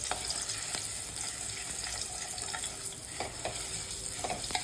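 Asafoetida and garlic chutney frying in hot oil, a steady close sizzle with occasional scraping stirs over it and no voices.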